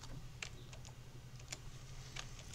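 Buttons being pressed on a TI-83 graphing calculator, a few sharp, faint plastic clicks spaced irregularly over a steady low electrical hum, with no talking.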